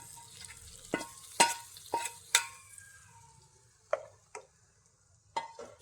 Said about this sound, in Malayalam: ഇനി നമുക്കിതിലേക്ക് കടുക് വറുത്തത് താളിച്ചു കൊടുക്കാം